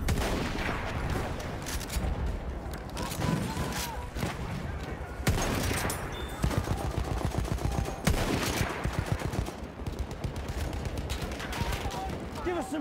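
Rapid machine gun fire and scattered gunshots in Battlefield 1 gameplay, dense and continuous throughout, with a battlefield din and some voice chatter underneath.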